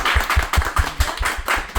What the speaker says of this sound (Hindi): तालियां बजाइएगा क्योंकि उन्होंने इतना एहतमाम किया है